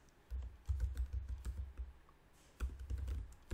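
Typing on a computer keyboard, close and soft, with quick uneven bursts of key clicks and a short pause in the middle.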